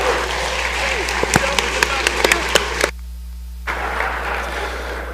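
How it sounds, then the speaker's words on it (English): Applause fills the Mississippi House of Representatives chamber, a broad steady wash of many hands with sharper individual claps standing out, breaking off briefly before resuming. "Let's give them a round of applause."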